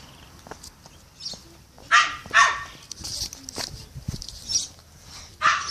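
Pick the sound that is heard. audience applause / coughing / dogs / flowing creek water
dogs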